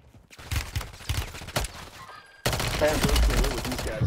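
Rapid bursts of automatic gunfire in a battle royale video game, a few sharp volleys followed by a dense, louder stretch of shooting and game noise.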